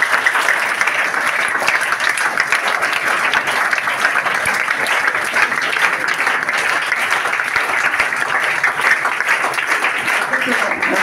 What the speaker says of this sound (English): Clap for Abhay.